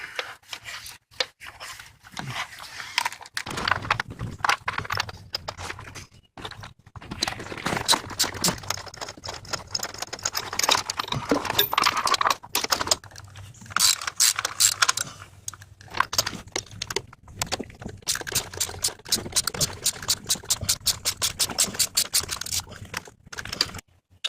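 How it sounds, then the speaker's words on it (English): A 1/4 inch socket wrench with extension and long 10mm socket ratcheting on bolts of a Lexus ES300 engine, rapid close clicking in bursts with brief pauses, no voices. "So I'm using a 1/4 inch socket wrench with a short extension with a wobbler at the end with a long 10mm socket."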